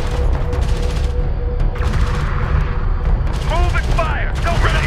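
Gunfire and explosions from a desert combat vehicle battle in Homeworld: Deserts of Kharak strike a salvager, a dense continuous rumble of shots with whistling, chirping weapon effects and radio voices over it.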